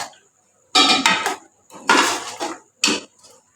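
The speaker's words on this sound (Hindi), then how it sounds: "इसके साथ ऊपर मैं गार्निश के लिए धनिया डाल रहा हूँ बारीक बारीक काटी हुई। इसको भी मिक्स कर लेना है।" Beef qorma in a pot being mixed after finely chopped coriander is added as garnish, heard as three loud bursts of clattering spoon-against-metal scraping separated by short pauses.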